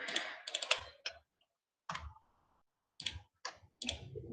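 Keys on a computer keyboard are typed in short, quiet clusters of clicks separated by silent gaps, close to the listener.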